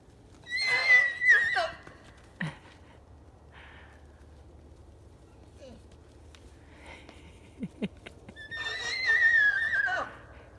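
A horse neighs loudly twice, long shrill whinnies at the start and end, with snorts and faint hoof or stable noises between.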